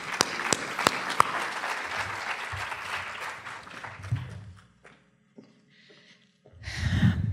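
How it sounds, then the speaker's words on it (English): An audience applauds a retiring high school teacher at an educator awards event, steady clapping with a few sharp nearby claps, fading after about five seconds before a voice starts speaking. "So let's just give her a round of applause."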